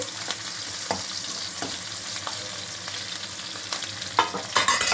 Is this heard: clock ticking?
no